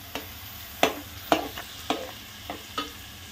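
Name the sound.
stirring mixed vegetables: peas, potato, cauliflower in a pan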